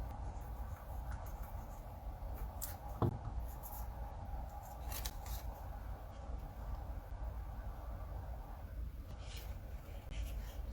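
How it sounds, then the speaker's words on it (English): An adhesive eraser rubs dried adhesive off a paper scrapbook album page, giving soft, close scratchy strokes in short bursts over a quiet, hissy background. "So Let's erase this adhesive."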